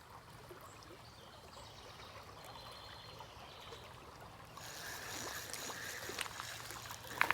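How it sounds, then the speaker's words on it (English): Fast-flowing creek water rushes steadily during a smallmouth bass fishing outing, a broad constant wash that grows louder and brighter about two-thirds of the way through, with no talking. "this water is moving pretty quick"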